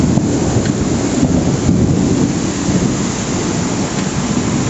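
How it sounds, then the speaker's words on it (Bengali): Heavy rain pours down during a storm in Jashore, with strong wind buffeting the microphone and dull rumbles of thunder in a continuous, loud roar. "মানে বৃষ্টির ঘনত্ব এত পুরু এবং বাতাসের তীব্রতা এত বেশি যে এই বাতাসের কারণে বৃষ্টি পানি গুঁড়ো হয়ে পাউডার হয়ে যাচ্ছে।"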